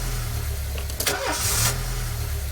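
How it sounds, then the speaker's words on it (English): A car engine in the video game This Is The Police cranks and struggles to start, a steady mid-pitched engine drone with a brief sputtering catch partway through, close and loud with no talk. "Come on, car, start."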